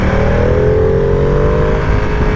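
A 2020 Ducati Panigale V2 sportbike accelerates hard on track, its engine loud and close with a rising, rasping drone that holds steady throughout.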